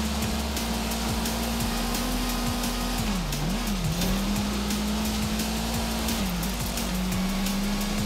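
A race car in Forza Horizon 5 roars along at steady high revs, its engine pitch dipping briefly before climbing again as tires squeal, loud and continuous with no talking.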